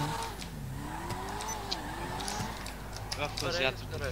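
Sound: car engine noise in a roleplay video game

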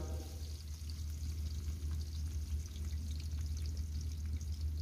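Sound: onions frying in hot oil

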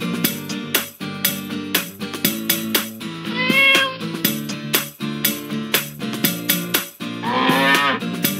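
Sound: calf mooing

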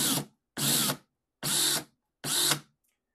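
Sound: power drill spinning a case trimmer

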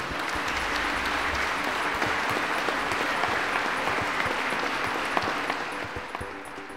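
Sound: audience applause

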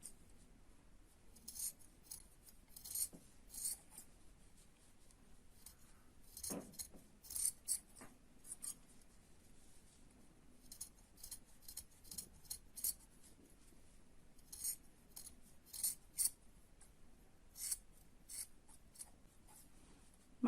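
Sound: scissors cutting craft material

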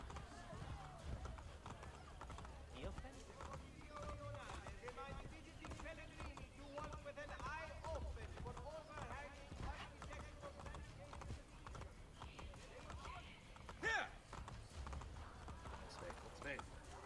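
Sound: horse galloping in video game Assassin's Creed: Brotherhood

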